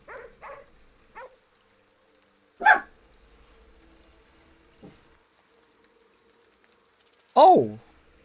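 Indoor dog barking, with a few short, sharp barks spread apart by long quiet gaps; the loudest come in two clear bursts, one early and one near the end, alongside faint softer sounds.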